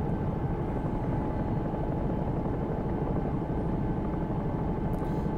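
A simulated Bell 222 London Air Ambulance helicopter in X-Plane 11 drones steadily, with a dense rotor and turbine roar that stays loud and even throughout, heard alone with no speech.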